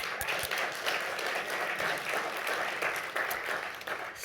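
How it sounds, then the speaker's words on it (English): Applause from an audience at a forum gathering, steady and fairly distant, a continuous wash of clapping without speech. "Let's applaud Amy."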